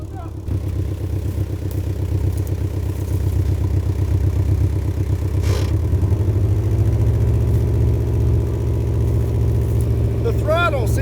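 A car engine with a stuck throttle runs at a steady high, droning rev that climbs slightly midway. It is loud and close, with a voice and a sharp whine near the end.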